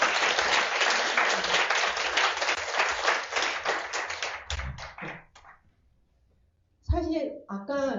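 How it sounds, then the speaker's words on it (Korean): An audience at a church Easter retreat conference bursts into loud, rapid applause lasting about four seconds. It thins into scattered claps and fades to near silence before a speaker's voice resumes. "우리가 서로가 서로에게 격려하는 박수 한번 이렇게 하면 되죠."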